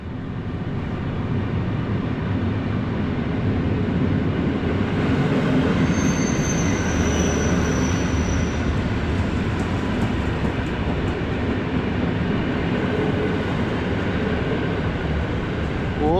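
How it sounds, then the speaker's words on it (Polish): An EN57AL electric multiple-unit train from Łuków rolls through Warszawa Zachodnia station in winter with a loud, continuous rumble of wheels and carriages, joined midway by a high, thin wheel squeal. "Z Łukowa jedzie EN57AL."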